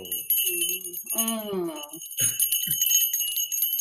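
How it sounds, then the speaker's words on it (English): Bright, sustained bell tones ring steadily through the moment, layered under a woman's soft humming and brief murmured voice at a shamanic gathering. "Oh, I love the bells."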